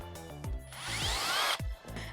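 A power drill bores holes into a high-heel custom roller skate, its motor whining and rising in pitch through a sustained run between short bursts, close and fairly quiet.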